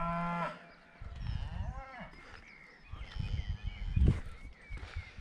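Cattle lowing in a field beside a road during a runner's warm-up, with several drawn-out moos, one rising and falling, close and loud, plus footsteps and rustling underneath.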